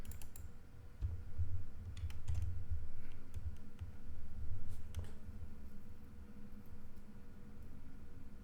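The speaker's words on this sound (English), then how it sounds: "I should be able to just type in this." Someone types on a computer keyboard, soft scattered key clicks coming in short bursts over a faint low background hum.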